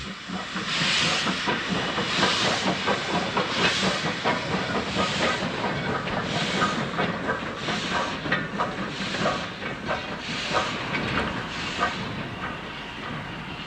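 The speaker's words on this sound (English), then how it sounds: "a Class V2 passes the engineer sidings with an Aberdeen to Edinburgh working." A Class V2 steam locomotive passes engineer sidings with an Aberdeen to Edinburgh train, a continuous loud hissing rush with regular rhythmic chuffing pulses throughout, no talk.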